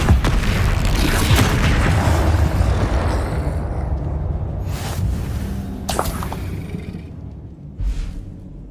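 Spell blasts from Incendio and Confringo in Hogwarts Legacy, a dense stretch of loud booming, fiery bursts that fades into a few separate, sharper pops and whooshes later on.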